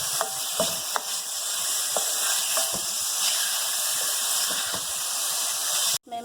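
Chicken pieces frying in a pan for shawarma, a steady loud sizzling hiss with occasional clinks of a spoon stirring, continuous throughout and cutting off briefly near the end.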